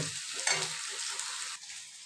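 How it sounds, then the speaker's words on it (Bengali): New potatoes sizzle and crackle steadily in hot oil, a close, continuous frying hiss with a brief stirring scrape partway through. "এবারে আমার আলুগুলো ভাজা হয়ে গেছে"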